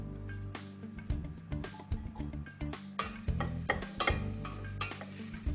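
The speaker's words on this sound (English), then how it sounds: "I'm going to put this into a saucepan and I'm going to get this frying off for about sort of 2 to 3 minutes" Pancetta fries in a saucepan with a lively sizzle, broken by repeated scraping and knocking as it is stirred, close and fairly quiet.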